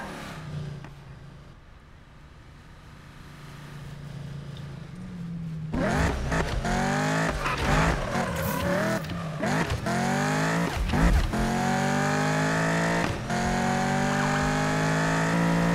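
Engine of a car in Need for Speed 2015 cranking and starting after a quiet idle, then revving hard with rising and falling pitch sweeps, loud and close.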